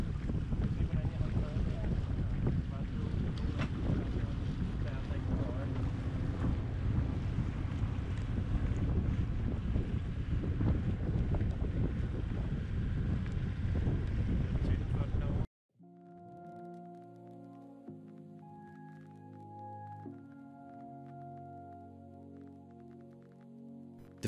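A Najad 340 sailboat sails south from Tønsberg toward Skjærhalden in Norway, with strong wind rushing over the microphone and water washing along the hull for about fifteen seconds before it cuts abruptly to quiet music.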